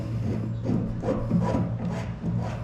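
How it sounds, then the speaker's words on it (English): A nut is screwed down by hand onto a bulkhead fitting through a drilled hole in a metal stock tank pool, giving a steady close-up scraping and rubbing sound with a constant low hum behind it. "And then the nut gets screwed down."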